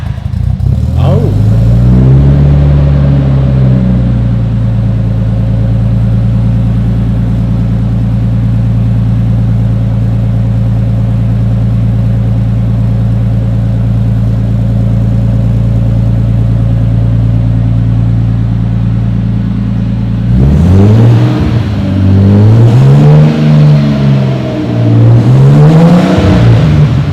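A Nissan Skyline GTS-T fitted with a new turboback exhaust cold-starts and settles into a loud, steady idle, then rises in several revs near the end, with people talking briefly nearby.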